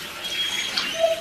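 Running bath water rinsing an 8-week-old Great Dane puppy in a tub, a steady close hiss and splash of flowing water with small surges.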